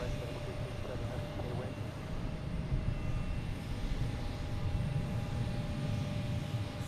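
A JetBlue jet airliner in fresh mint livery climbs out after takeoff at Boston Logan Airport, its engines a steady, broad roar throughout, with a voice talking over it.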